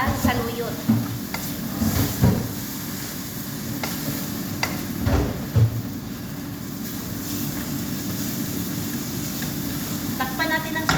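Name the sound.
stirring Chinese rice with saluyot vegetables and shrimp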